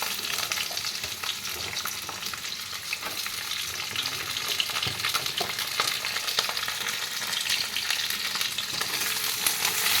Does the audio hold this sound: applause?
no